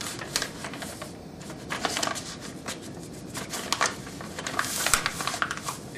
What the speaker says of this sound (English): I'll push it down and fold that flap over all the way across the bottom